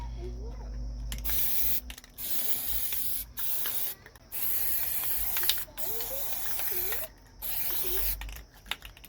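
Spray can paint applied to a suspension part in short hissing bursts of about a second each, seven or eight in a row with brief pauses, close and steady, with faint clicks and squeaks between sprays.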